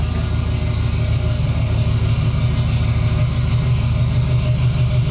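Subaru turbo engine in a dune buggy idling on a cold first start of the day, a loud, steady, throbbing rumble that holds constant throughout, with no speech.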